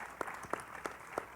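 Quiet applause from an audience at a talk event for a Mexican journalist, faint and brief, with a few louder claps standing out in a regular rhythm.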